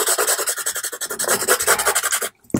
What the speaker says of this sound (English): That's going to be rubbed with your finger.